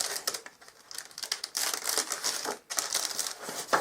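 Polystyrene packaging around a Hornby Flying Scotsman model locomotive is handled at close range, giving irregular squeaky crinkles and rubbing scrapes in short bursts with brief pauses and no voices.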